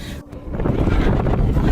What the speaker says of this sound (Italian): C'è questo vento caldissimo